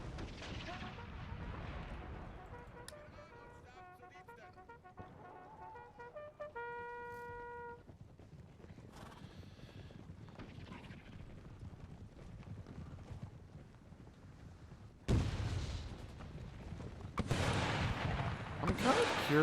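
Cannon artillery fire in the Empire Total War game, heard as scattered distant booms and rumbling volleys in a busy battle soundscape, with a heavier burst of fire toward the end.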